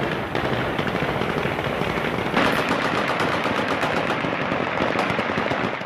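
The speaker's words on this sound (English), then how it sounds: "Ominous gunfire ringing out at the Kabul airport." Rapid bursts of celebratory gunfire crackle in the distance at Kabul airport, overlapping shots rattling in quick succession for several seconds.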